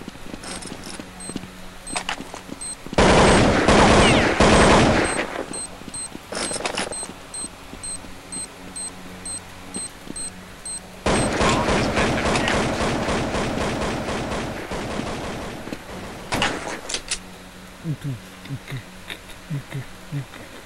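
Counter Strike 1.6 gunfire in two loud sustained bursts of rapid automatic fire, separated by quieter game ambience and scattered single shots, with faint talk in the background.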